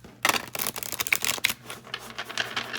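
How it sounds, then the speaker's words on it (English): Tarot cards are shuffled by hand in quick crisp riffles and taps, a series of sharp close papery clicks and flutters with short gaps between bursts. "you can traditionally shuffle these cards as well"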